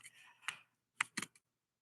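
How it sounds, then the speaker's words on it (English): Fingers typing on a laptop keyboard, a few scattered soft key clicks and taps close by with pauses between them, with no talking. "So you will see like all my fingers are typing."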